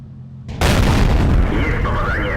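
A tank shell glances off armour in World of Tanks: a sudden loud metallic boom and crash erupts after a quiet engine hum, then rings on with a rising whine.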